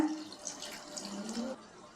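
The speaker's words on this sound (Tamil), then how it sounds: "இப்போ சிக்கன் வேக தேவையான அளவு நம்ம தண்ணி சேர்த்துக்கணும்" Water is poured into a pan of frying broiler chicken for chicken chinthamani, making a brief soft splashing and trickling sound that is faint and close.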